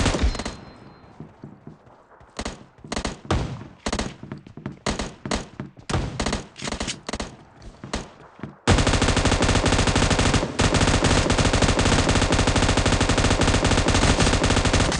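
PUBG Mobile gunfire: loud bursts of automatic shots in uneven volleys for several seconds, then a dense, sustained roar of rapid fire that fills the rest.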